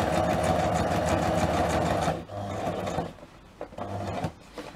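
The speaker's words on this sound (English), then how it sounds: "When I'm starting in the middle of the piece, I do a little tiny back stitch just because I want to secure the thread." A sewing machine stitches a tiny back stitch on a paper-pieced quilt block. A steady close whir runs for about two seconds, then short bursts of stitching follow with pauses between them.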